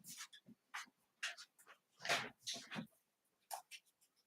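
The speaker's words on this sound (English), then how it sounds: "It's basically a torrent of little dogs" Several small dogs panting and whimpering in short bursts, fairly close, with no one talking over them.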